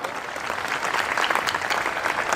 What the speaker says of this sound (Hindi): मुझे तालियों से मन बना दीजिए मेरा